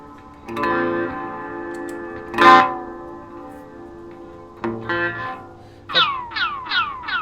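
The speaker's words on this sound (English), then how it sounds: "you'll actually get runaway oscillation" Reverb pedal effects ring out with sustained guitar tones, then repeating pitch-bending swoops build into a cycling, self-oscillating runaway feedback howl, loud and up close.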